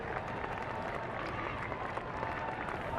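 A stadium crowd at a college football playoff game between Illinois State and Appalachian State, heard as a continuous broad roar with scattered clapping, steady and fairly distant, with no clear break.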